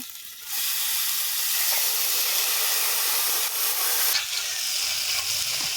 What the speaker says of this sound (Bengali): মশলা রেডি মাংসটা দিয়ে দেবো